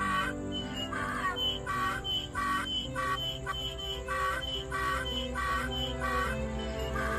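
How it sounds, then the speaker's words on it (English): A donkey bray from a sound book plays as a repeated rhythmic hee-haw, about a dozen bursts in steady succession, moderately faint and tinny, with no voices over it. "Let's hear a donkey sound."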